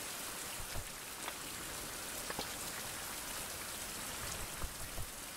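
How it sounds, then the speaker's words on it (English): Steady rain falls across a dark outdoor landscape in a survival video game, making an even wash of patter with a few heavier drops landing now and then. The rain continues unbroken throughout, with no voices. "It's just the rain again."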